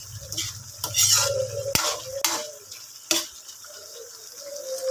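String beans frying with pork in a pan for adobong sitaw: a utensil scrapes and clanks against the pan several times over a soft steady sizzle, close and fairly quiet, with no talking.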